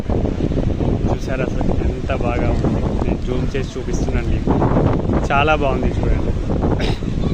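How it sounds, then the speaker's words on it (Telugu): Strong wind at Kovalam beach in Kerala, near the lighthouse, buffets the microphone with constant rumbling gusts beneath a person talking continuously. "మీకు వాయిస్ తక్కువ వినిపించవచ్చు, అంటే గాలి వల్ల చాలా ఉంటుంది గాలి."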